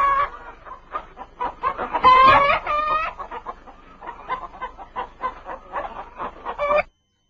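Several chickens on an Israeli desert farm clucking close by in short, uneven bursts, with one louder squawk near the middle, then the sound cuts off abruptly.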